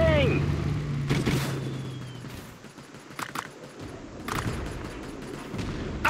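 Gunfire rattles across a World War Armies battlefield, loud bursts and sharp shots over a rumbling backdrop, with a shouted voice at the start.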